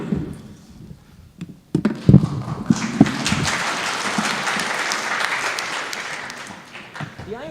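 A conference audience at a robotics session bursts into applause for a presenter after a few scattered taps, swelling into a dense, sustained wash of clapping that holds steady for several seconds.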